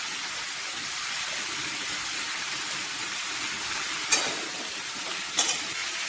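Pumpkin, potato and Malabar spinach stems with salt and turmeric fry in a pan, giving a steady soft sizzle, with two brief scraping clinks of a spatula stirring near the end.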